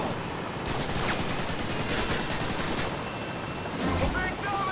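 Harrier jet airstrike gunfire in Modern Warfare 2 on the Terminal map, a dense rumbling spray of distant shots layered over steady background noise and game effects, with a voice speaking over part of it.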